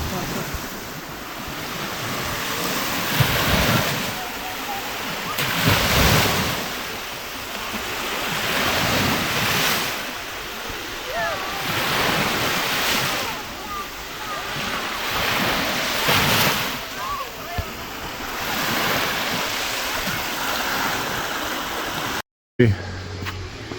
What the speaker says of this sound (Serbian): Uz ovaj zvuk talasa